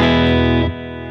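An electric guitar played through a Fender Pro Junior IV tube amp at full volume with delay rings out as a loud, distorted sustained chord, then drops abruptly to a quieter lingering tail.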